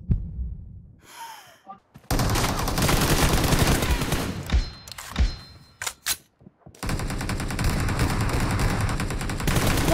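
Gunfire in the mobile battle-royale game PUBG Mobile during a team deathmatch, loud rapid automatic bursts in two long stretches broken by a quieter gap with breathy gasps and single shots.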